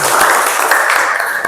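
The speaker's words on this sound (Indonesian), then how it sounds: "Aplaus dulu untuk kelompok kedua" Classroom applause for a group of students, a short burst of dense clapping from many hands, close and loud, with no talk over it.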